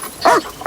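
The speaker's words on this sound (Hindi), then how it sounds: "जर्मन शेफर्ड है, भेड़ियों की ही नस्ल है।" A German Shepherd gives a single short, close bark, a brief sharp yelp standing out against a quiet background.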